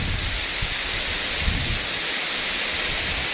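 Tat Yai waterfall in Phu Pha Man, Khon Kaen, rushes close by as a steady, loud, hissing roar of falling water that stays even throughout with no voices.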